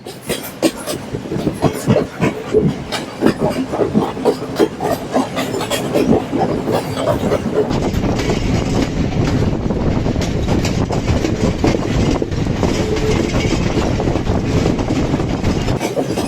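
A Sri Lankan passenger train from Colombo to Batticaloa rumbles steadily along the rails, with rhythmic clacking and rolling noise that stays loud and continuous throughout.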